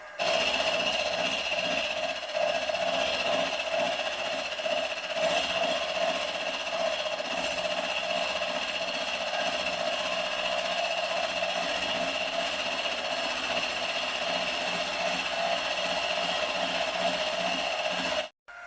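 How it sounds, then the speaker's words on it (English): Steady metal machining on the top of a 2-inch-scale Fowler Showman's traction engine crankshaft, a continuous whining, rattling drone with tonal ringing that holds evenly for nearly twenty seconds before stopping abruptly, no voices. "just machining the top of this off now"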